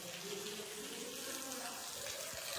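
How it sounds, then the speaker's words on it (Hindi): Tap water runs into a tractor tyre from a Sonalika RX 60, a soft, continuous rushing flow heard at low level without pause. "लो भाई टायर में पानी भरने लग रहा है"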